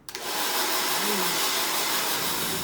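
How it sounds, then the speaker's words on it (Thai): Hair dryer blowing on freshly washed, newly dyed hair, a steady loud whooshing roar that starts just after a brief click and runs without pause, with no talk over it. "รอเป่าให้แห้งนะครับ"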